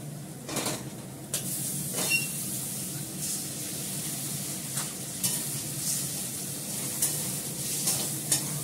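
An egg frying in a pan for chowmein, with a steady sizzle throughout and occasional stirring scrapes, close and alone without talk.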